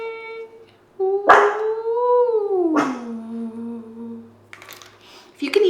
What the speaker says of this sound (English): If you can hear a little woof, woof, woof.